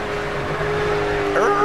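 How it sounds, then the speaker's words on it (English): Engine drone of a NASCAR truck in a racing video game at Nashville Superspeedway, with a brief rising tire squeal near the end, over steady background noise and a voice. "You hear the tire squeal?"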